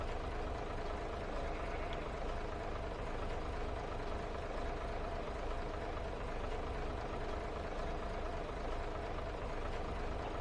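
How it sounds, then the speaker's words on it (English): A locomotive engine in a train simulation game labours steadily up a steep incline at low speed, a continuous heavy droning rumble with a constant mechanical hum throughout and no talk. "Engine purring away, screaming for dear life."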